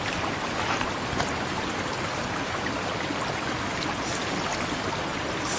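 Water splashing and churning from someone swimming in the sea at night, a steady loud wash of surf-like noise that runs without a break, with no voices over it.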